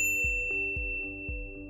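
A notification bell chime rings out in a quick series of about five or six clear, bright dings, each with a short ringing decay, close and alone with no voices.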